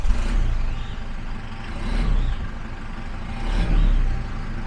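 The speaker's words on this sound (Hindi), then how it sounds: "ये है इस गाड़ी का स्टार्टअप।" A Toyota Fortuner Sigma4 SUV with about 133,000 km fires up via its push button, a loud close engine rumble surging in two swells over a steady idle.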